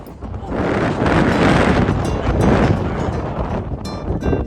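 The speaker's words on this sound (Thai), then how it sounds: "ลองให้ท่านได้ได้ยินเสียงลม ที่เรียวๆ เลยนะครับว่าจะหนุนแค่ไหน" Strong wind roars steadily across the summit of Rigi mountain in Switzerland, a loud continuous gusting rush that buffets the microphone and swells and eases throughout, with no voices.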